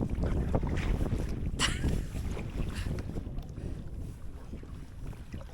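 Kayak gliding across Ullswater lake, with steady wind buffeting the microphone and soft water sloshing close by, one brief louder splash midway, no talk over it.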